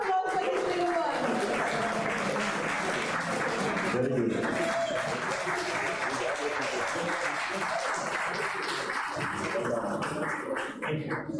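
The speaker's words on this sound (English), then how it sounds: "Huge round of applause for this little one." Steady, dense audience applause fills the hall for a young child prize winner at the International Gita Mahotsav 2025 in Sydney, continuing throughout with a voice speaking over the clapping.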